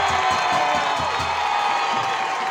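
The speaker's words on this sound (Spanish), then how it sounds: "un aplauso para el América" Fans gathered with the supporters' groups of América and Deportivo Cali in Yumbo cheer and clap for América, a loud crowd roar with whoops and shouts and some hand claps throughout.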